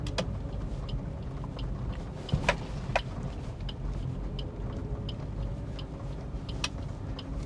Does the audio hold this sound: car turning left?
yes